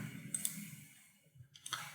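A mouse click saves a job configuration during a Java Docker project setup, a couple of short, faint clicks against a quiet room hum.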